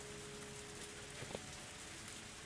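Steady rain falls on surfaces in a continuous even patter, with soft scattered drops that stay quiet and constant throughout and no voices over it.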